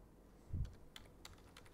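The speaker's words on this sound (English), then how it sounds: "Now, let us start typing something." A computer keyboard is typed on in a quiet room, with a handful of faint, crisp key clicks spaced irregularly after a soft low thump.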